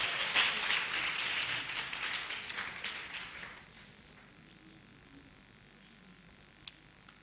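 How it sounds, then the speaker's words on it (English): Applause from a seated audience at a nursing college matriculation ceremony, a dense wash of clapping that is loud at first, then fades and thins out to near quiet. "A resounding round of applause for yourselves"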